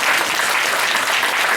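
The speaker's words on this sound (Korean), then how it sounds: "박수 한번 주시죠" Symposium attendees at a low-carb, high-fat diet Q&A session break into a brief, dense burst of applause, loud and close throughout.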